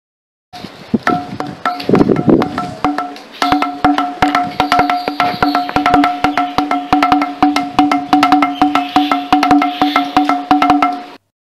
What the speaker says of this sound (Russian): Если вы постучите по нему, вы услышите звук этих барабанов.